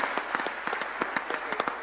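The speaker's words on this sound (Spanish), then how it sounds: "Por favor, un aplauso, les damos la bienvenida." Panel audience applause, a steady patter of many hands clapping at moderate volume, welcoming the panelists.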